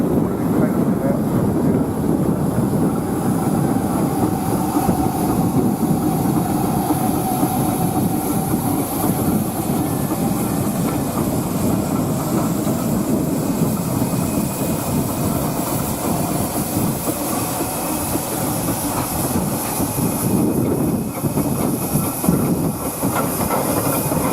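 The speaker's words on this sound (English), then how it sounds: "not only do the steam engines look wonderful, not only do they sound better on the floor" Steady, loud mechanical chugging and hiss of steam traction engines running nearby at the 2016 Woodcote steam rally, a continuous rumbling drone with faint voices mixed in.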